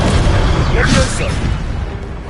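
Levioso levitation spell cast in the game Hogwarts Legacy: a single swooshing magical flare that rises and fades within a low, rumbling bed of loud game sound.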